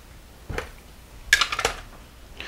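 Pans and dishes clatter during kitchen cleaning: a single knock, then a quick burst of bright metallic clinks and rattles, close and fairly quiet, with a faint scrape at the end.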